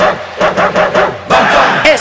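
A dog barks repeatedly in a rabies vaccination jingle, a run of short, close yaps in a bouncy rhythm, with a voice heard alongside.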